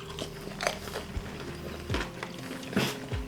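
Hot chicken nuggets being bitten and chewed up close, a few crunchy bites and wet chewing sounds spaced over a few seconds with no talking.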